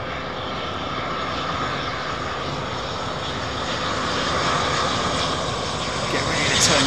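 A 747 freighter jet with CFM engines lands at MIA and deploys its thrust reversers, producing a continuous broad roar that swells louder toward the end.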